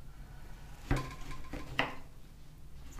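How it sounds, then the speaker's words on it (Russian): A sharp, well-honed kitchen knife cuts vegetables for a summer salad on a board, two distinct chopping strokes landing about a second apart against a quiet kitchen background. "Вот, видите, да, как я режу?"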